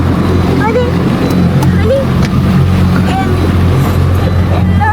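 A motorboat engine drones steadily on the water off Kuşadası, Turkey, during a fishing trip, loud and close throughout, with wind buffeting and a few voices faintly in the background.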